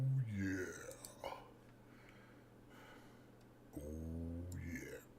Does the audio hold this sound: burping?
yes